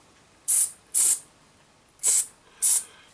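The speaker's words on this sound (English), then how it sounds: "Spray a bit on" Aerosol spray can cleaning grime off the worn idler and parts of an old Dynatron record player: four short, close hissing bursts, each about a quarter second, in two evenly spaced pairs with quiet gaps between.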